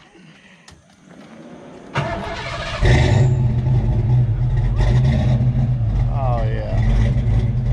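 A Fox body Mustang's V8 cranks, fires and settles into a loud, lumpy idle close by, with a brief voice over the start and a rising whine partway through.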